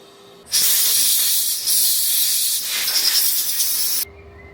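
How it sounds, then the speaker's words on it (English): Compressed air blowing over a freshly welded steel plate to cool it, a loud steady hiss that starts abruptly, runs for about three and a half seconds with slight wavering, then cuts off sharply. "After each weld I cooled the plate with air to prevent the warping."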